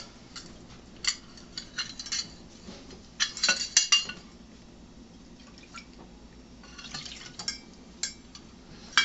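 Soy milk is poured and measured into a kitchen container for gluten-free cornbread batter, with splashing liquid, drips and light clinks of dishes and utensils near the microphone.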